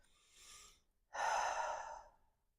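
A deep breath in a yoga class: a soft, faint inhale followed by a longer, louder breathy exhale, close and alone.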